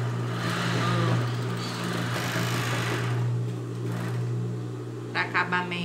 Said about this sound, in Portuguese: Aqui na overlock a gente vai passar uma overlock aqui em cima do nosso bojo.